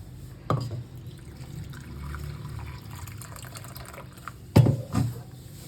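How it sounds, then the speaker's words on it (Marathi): Hot water splashes and trickles into a cooking pot in a couple of short pours, with a quiet gurgling stretch between them. "आणि याच्यामध्ये गरम पाणी ओतायचं त्या भांड्यातच ओतते मी"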